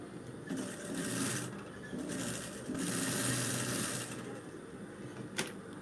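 A sewing machine runs in a few short bursts of close, buzzy stitching, with soft background noise and a faint bird-like coo.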